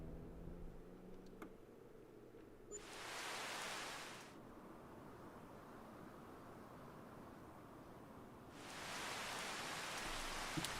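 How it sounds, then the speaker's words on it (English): Rain in the farming video game Farming Simulator 25, a faint, steady hiss of falling rain that swells in two broad louder washes, with a low rumbling bed underneath and no speech. "Rain, rain, rain."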